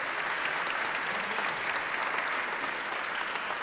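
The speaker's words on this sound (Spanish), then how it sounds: "Un aplauso para todas las personas que participaron en este spot." An audience applauds continuously at a film festival's opening ceremony, a dense, steady wash of clapping from a large crowd that holds an even level throughout.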